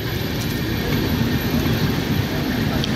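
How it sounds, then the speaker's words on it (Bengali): Howrah–Radhikapur Express train, also called Up Kulip Express, rolling toward Bandel Junction, a loud continuous rumble of wheels and carriages close by, with no talk. "এই এক্সপ্রেস ট্রেনটির অপর নাম হাওড়া রাধিকাপুর এক্সপ্রেস।"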